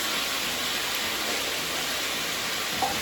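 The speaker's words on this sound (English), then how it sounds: "You gotta wash the meat off your hands." Tap water runs steadily into a kitchen sink while hands are rinsed of raw ground lamb, a constant hissing splash without pauses and a small knock near the end.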